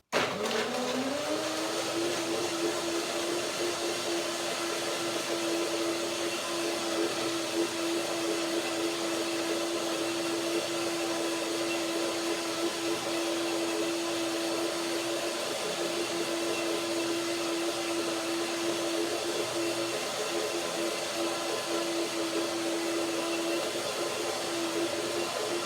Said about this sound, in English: some water to get started, and then first blending